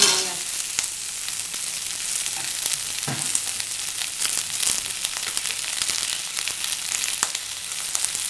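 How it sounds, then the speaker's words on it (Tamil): Onions sauté in a pan with salt, a constant crackling sizzle close by with scattered stir clicks throughout. "வெங்காயம் வதங்கினாங்க."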